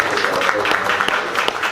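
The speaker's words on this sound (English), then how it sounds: "I think we should give him a round of applause for that." A brief round of applause from an audience at a live combat sports talk show, scattered clapping heard close and mixed with voices.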